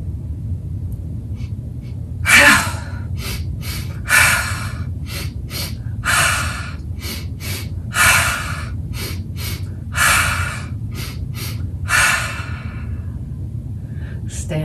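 Deep, slow yoga breathing during a seated office yoga session, with about seven regular breaths roughly two seconds apart, each a loud airy inhale or exhale standing out over a steady low background hum.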